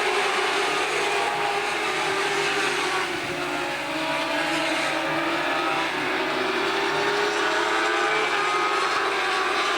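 Dwarf race cars roaring as they accelerate together on a speedway at the green flag, a loud continuous engine drone with rising pitch across the field, no talk.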